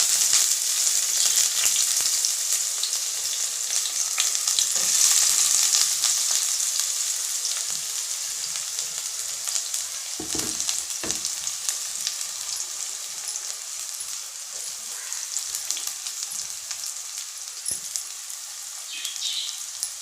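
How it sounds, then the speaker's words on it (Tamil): Onions frying in hot oil with crushed garlic and fennel seeds, a loud, continuous crackling sizzle close by with occasional stirring knocks, no voices over it. "ஆனியன் போட்டுக்கலாம்"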